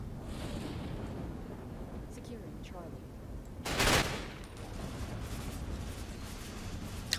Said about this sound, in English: What the heck kind of gun is that? A large machine gun?